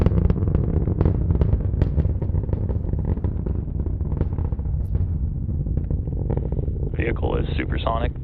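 A Falcon 9 Block 5 rocket carrying Starlink satellites climbs through max Q, its roar a steady broadband rumble with crackling bursts. A brief higher-pitched tonal sound rises near the end.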